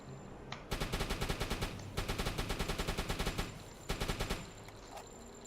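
Deck gun on a submarine in the UBOAT video game firing in rapid bursts, loud and close, with heavy repeated thumps in three volleys separated by short pauses.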